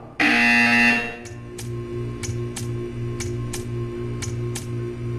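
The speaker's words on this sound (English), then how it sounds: "You will hear a buzzer." Repeating electronic buzzer from the video game Portal 2: a loud opening tone burst followed by a steady series of short evenly spaced beeps over a low droning background hum.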